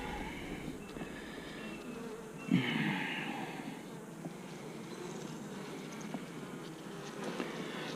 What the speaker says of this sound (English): These bees seem to be a little more chilled out.